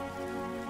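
Steady rain falls in an animated Hindi cartoon story, a continuous even hiss with a humming tonal layer underneath and no distinct drops.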